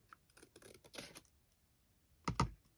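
Scissors cut through vintage ephemera paper in a few quiet, crisp snips. A louder double snip lands near the end, and no one speaks.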